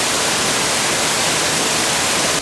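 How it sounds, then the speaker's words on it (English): A waterfall in an indoor jungle zoo exhibit roars as a broad, steady rush of falling water, loud and unbroken with no voices over it. "Here you got waterfalls."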